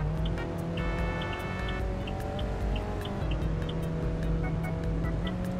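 A Mazda's automatic emergency braking warning sounds in the Roblox game Car Driving Indonesia. Short electronic beeps repeat steadily, with a brief chime partway through, all over a constant engine hum.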